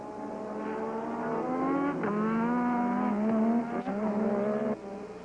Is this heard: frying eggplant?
no